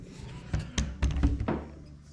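A staple remover pries staples out of the door card of an HQ Holden, giving a quick series of five or six close dull snaps and thunks in uneven rhythm.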